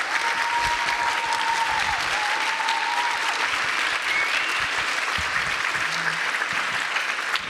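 Audience applauding at an Ashoka Fellows presentation ceremony, sustained dense clapping from a large crowd, loud and steady throughout.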